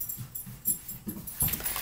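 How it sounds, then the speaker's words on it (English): Soft puppy whimpers and little yips repeat in quick bursts, faint and close, with panting breaths between. "Even with all of that puppy noise in the background"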